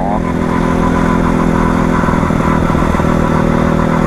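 A Honda Crossfire motorcycle's engine runs steadily up close, with a low continuous throb and a loud, even drone throughout.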